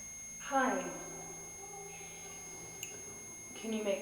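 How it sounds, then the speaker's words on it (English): An electronic device beeping during a paranormal investigation inside an old Wild West jail, its steady high tones repeating in the background while a voice speaks nearby. "Can you make that stop beeping?"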